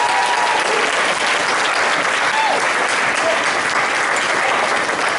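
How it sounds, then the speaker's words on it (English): A crowd claps in a thick, continuous roar of applause that stays loud and even throughout, with no pauses or single claps standing out. "round of applause again."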